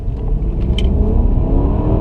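The 245 kW V8 of a Y50 Nissan Fuga hums steadily while driving, a continuous low rumble with road noise heard from inside the cabin, loud and without talk.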